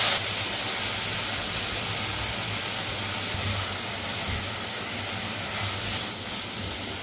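Broad beans curry sautéing in a pan, tossed with chili powder, gives a steady, loud, even hiss that carries through the whole stretch with little change.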